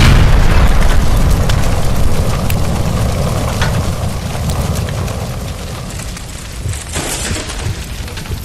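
A gas line explodes beside a stove in L.A. Noire, releasing a loud, sustained roaring blast whose deep rumble slowly fades over several seconds, with no talking.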